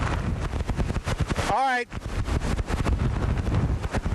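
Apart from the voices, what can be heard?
strong hurricane wind gusts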